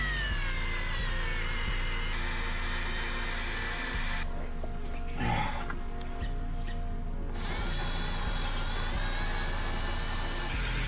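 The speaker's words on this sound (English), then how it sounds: "I'm gonna make a notch here with the 1/8 drill bit." A Milwaukee drill with a 1/8 bit notches a Subaru STi skid plate in short whining bursts, a close, high-pitched drilling spin that cuts in and out over a steady background.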